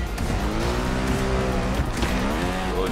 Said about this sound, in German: So, jetzt habe ich mehr Gas gegeben.